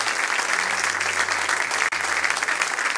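Sustained applause from a church congregation, a thick wash of many hands clapping at even loudness, briefly cut by a sharp dropout before carrying on.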